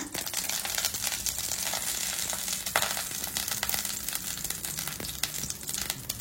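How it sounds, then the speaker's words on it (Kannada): Cashews and raisins frying in hot ghee, a continuous close crackling sizzle with occasional sharper pops and light stirring, no voices. "ಇದಕ್ಕೆ ಸ್ಟಾರ್ಟಿಂಗ್ ನಾನು ದ್ರಾಕ್ಷಿ ಮತ್ತೆ ಗೋಡಂಬಿ ಹಾಕೊಳ್ತಾ ಇದ್ದೇನೆ. ಇದನ್ನೀಗ ಚಂದ ಫ್ರೈ ಮಾಡುವ."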